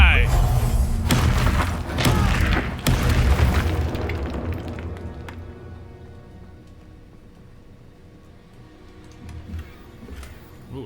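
Explosive spell blasts fired in a fantasy wizard video game, a run of loud booming bursts and thuds in the first few seconds that fade into a quieter rumbling, ticking tail with a small flare near the end.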